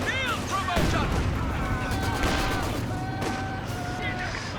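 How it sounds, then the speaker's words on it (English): Wartime video game battle with British infantry met by frag grenades, artillery and MP-44 submachine gun fire: a dense, continuous clatter of shots and blasts mixed with whistling tones, while a voice talks over it. "British infantry get repelled by frag grenades, artillery, and MP-44s."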